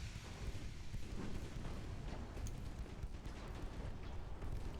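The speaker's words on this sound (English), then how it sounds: "Fire the machine guns." Machine guns aboard a warship rattle in the naval video game Ultimate Admiral Dreadnoughts, a dense, continuous roar of overlapping rapid fire and booms that persists at steady loudness throughout, with no voices.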